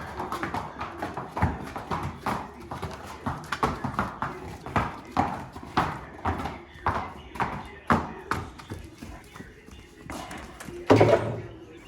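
Hooves clop in a steady, regular rhythm as horses move along, fairly close, with a person speaking intermittently over them.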